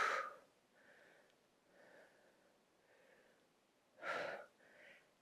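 Soft, audible breathing during a core exercise: a sharp breath at the start, several faint rhythmic breaths in between, and a stronger inhale or exhale near the end, close and quiet.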